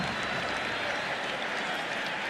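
A college football stadium crowd at Florida State versus Florida cheers and claps after a first down, a steady wash of roaring noise and applause heard from a distance, fairly faint and unbroken.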